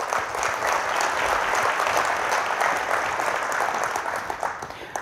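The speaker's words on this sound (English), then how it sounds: "And I think that deserves a big applause also." Sustained audience applause at a business outlook conference, a dense, even wash of clapping from a large crowd that starts thinning toward the end.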